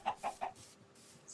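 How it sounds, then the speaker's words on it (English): Chickens in Minecraft Tekkit giving three quick clucks in a row, close and clear, followed by a faint pause of quiet game ambience. "Some chickens around."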